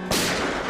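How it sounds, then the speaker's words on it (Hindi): A single sharp gunshot or firecracker-like bang bursts loudly and decays into a broad, noisy tail, with no voices present. "ये क्या गोली चलने की आवाज है?"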